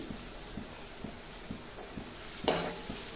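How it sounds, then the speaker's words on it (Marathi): Onion sautéing quietly in a pan gives a soft sizzle, with a spatula tapping the pan in a steady rhythm about twice a second and one louder scrape near the end. "कांदा परतून घेऊया"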